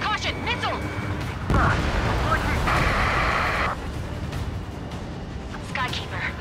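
In the jet combat game Ace Combat 7, a missile explosion roars over a steady backdrop of engine rumble and gunfire, with radio chatter from voices running underneath.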